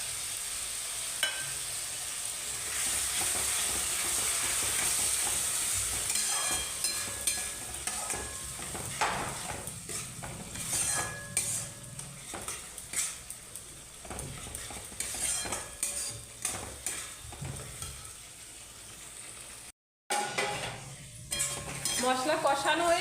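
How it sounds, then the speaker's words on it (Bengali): Spice paste with Kashmiri chilli powder frying and being stirred in a pan for fish curry, steady sizzling broken by repeated scraping and clinking of a spatula against the pot, close and moderately quiet. "মশলা কষানো হয়ে গেছে"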